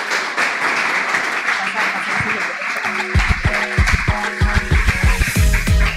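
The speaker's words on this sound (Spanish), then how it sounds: "os pido por favor un fortísimo aplauso" Applause for a cancer researcher at a science talk, a broad wash of audience clapping with speech-like voices and tonal sounds layered over it in the second half.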